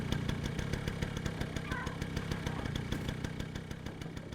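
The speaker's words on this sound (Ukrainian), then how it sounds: "Та заглуши мотор" In the video game Stray, a vehicle engine idles with a steady, rapid throbbing that runs continuously at an even level throughout, with no talking.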